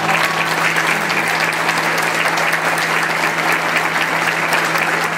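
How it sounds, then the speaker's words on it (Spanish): A crowd at a municipal report event gives a strong, warm round of applause, loud continuous clapping that holds steady throughout, with a faint low hum underneath and no talking. "vamos a recibir con un fuerte, fuerte pero caluroso aplauso a Miguel Ángel Cancela García."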